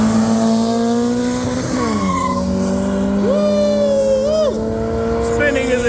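A Beams-engined Toyota Corolla races a BMW at a car event, both engines droning loud and close with pitch climbing, dipping and sweeping between gear changes, tires faintly squealing.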